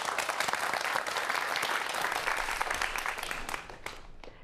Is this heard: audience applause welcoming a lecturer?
yes